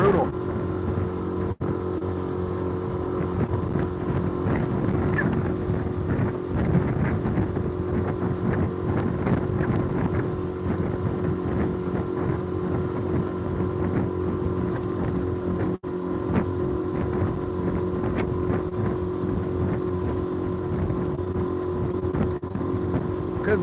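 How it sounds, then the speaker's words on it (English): Constant roar of strong wind buffeting the microphone on a lake, mixed with the steady drone of a boat motor, running unbroken throughout with a few faint knocks. "This wind is brutal."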